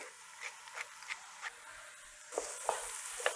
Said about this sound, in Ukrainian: Наша морквочка з цибулею смажиться